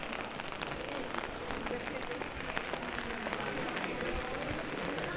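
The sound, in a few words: rain falling on a street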